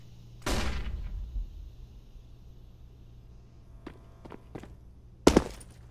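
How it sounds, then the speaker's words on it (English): A flashbang grenade thrown in CS:GO, with a loud burst near the start that fades, a few sharp clicks later on, and a second sharp bang near the end, heard without any talk. "Throwing flashbang."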